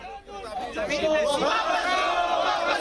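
A crowd gathered at a protest over the Waqf bill shouts and chants together, a loud, swelling mass of raised voices that holds strong throughout.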